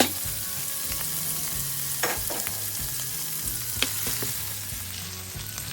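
Shrimp stir fry in hot oil with a continuous sizzle, broken by several spatula scrapes and clinks against the pan.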